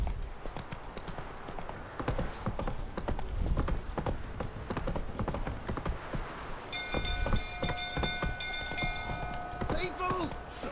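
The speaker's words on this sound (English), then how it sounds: "Run, Roach." In The Witcher 3, the horse Roach gallops with rapid, continuous hoofbeats close by, joined by game ambience and chiming effects in the last few seconds.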